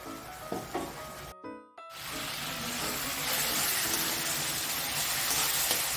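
Spice paste sizzles steadily in hot oil in a pan while it is cooked down for vegetarian Bengali ghugni. A brief gap of silence comes early on, then a continuous hissing fry.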